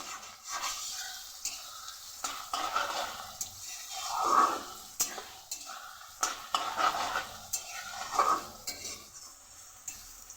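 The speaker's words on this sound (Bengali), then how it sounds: "এদিকে আমার পেঁয়াজ ভাজাটাও হচ্ছে" Onions frying in a pan, a soft ongoing sizzle broken by repeated clinks and scrapes of a utensil against metal, moderately close with no voices.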